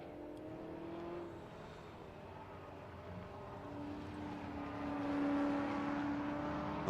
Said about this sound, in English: The battling BMW and Commodore pair, Osmond and Millett.